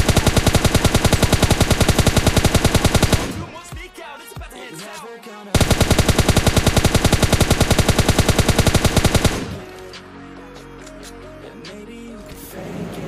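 Gunfire in the PUBG Lite video game comes as two long, loud bursts of rapid automatic shots, each lasting a few seconds, separated and followed by quieter in-game ambience, with no voices.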